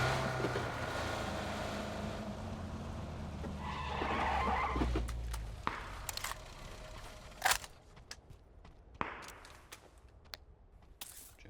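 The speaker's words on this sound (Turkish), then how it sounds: "arabamızı aldık ve yollara düştük" An engine drones steadily while a car drives in the video game PUBG, with scattered sharp bangs and clatters later on and no talking.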